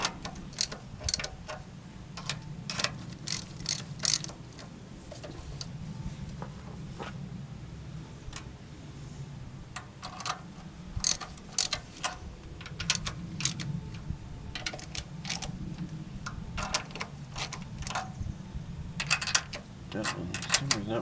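Ratchet clicks in quick bursts while bolts are tightened one after another on a Toyota Tercel 4WD 3A engine, the sharp ticking close and repeated over a low background rumble.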